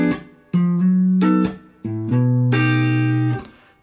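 A guitar plays a slow, clean phrase of sustained chords and notes, each ringing out before the next, with brief gaps between groups.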